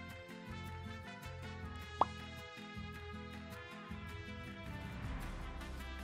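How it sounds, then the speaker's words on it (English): A single sharp pop rings out once over steady, looping music in the video game Guacamelee 2, then the music carries on. "Hope you guys like that pop noise."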